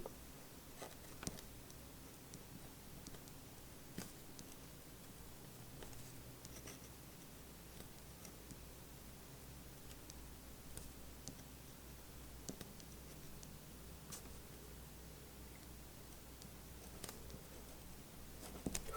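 A fountain pen writing on paper with Noodler's X-Feather ink gives a faint, steady scratch and patter of nib strokes, with a few sharper clicks, close and quiet.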